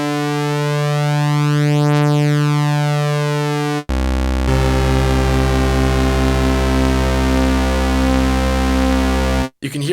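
Sequential Prophet 6 analog synth holding a loud sustained tone, its oscillators slightly detuned by the vintage knob so the harmonics waver and beat; a short break near four seconds, then a deeper, richer chord drones on before cutting off.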